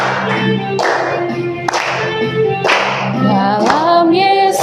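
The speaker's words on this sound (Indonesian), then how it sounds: "Boleh tepuk tangan?" Hands clap in time with voices singing a worship song, 'Dalam Yesus kita bersaudara', in a teacher-training class session; steady rhythmic claps sit under loud group singing throughout.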